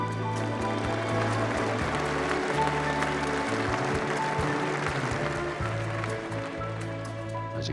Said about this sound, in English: As you can probably hear from the applause there, the place is full of Swedes as well